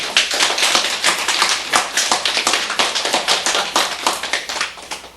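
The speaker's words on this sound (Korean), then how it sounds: "박수 좀 쳐." A group of listeners at a Buddhist sutra lecture clapping together, loud and close, with sharp claps in a fairly steady rhythm that pulse throughout before tapering off.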